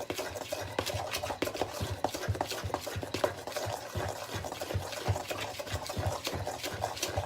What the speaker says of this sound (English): So I'm stirring and making sure I'm grabbing all of the mix.